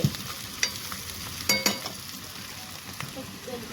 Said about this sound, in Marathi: आता हे टाकत साबुदाणे आणि शेंगदाणे मिक्स करते